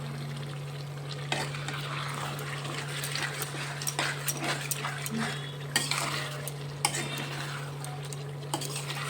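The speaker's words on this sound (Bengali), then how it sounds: "মাংসটা খুব সফট মাংস, হালকা হাতে লাড়া দিলাম" Wild chicken meat curry stirred in a pan as the oil separates, with scraping spoon and pot clatter over a soft sizzle and a steady low electrical hum.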